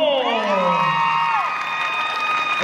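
A contest audience in a shouting competition roars for the second contestant with loud whoops, shrill rising cheers and crowd noise, sustained and close for a few seconds.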